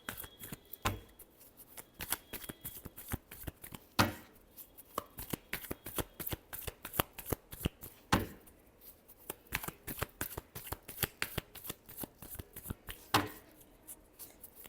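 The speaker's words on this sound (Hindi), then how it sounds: "Last shuffle." Tarot cards shuffled by hand in a long, steady run of quick riffling and flicking, close and fairly soft, with a few sharper taps and no talking.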